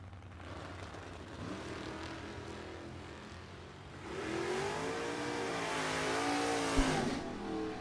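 A green 1970 Chevelle and a 1968 Chevelle launch side by side at a bracket drag race, engines rising in a roaring, revving sweep that grows louder midway, heard from a distance.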